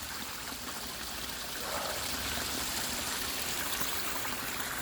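Water gushes steadily out of a 3-inch pipe outdoors, a constant broadband rushing and trickling that holds at an even, moderate level throughout with no voices.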